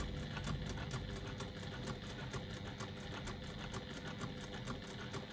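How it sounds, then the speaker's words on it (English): Sewing machine top stitching an eighth of an inch from the edge of a cork or faux leather pouch, a steady close-up mechanical whir with fast regular needle ticks that run without a break and no talking. "I'm top stitching again at 1/8 of an inch"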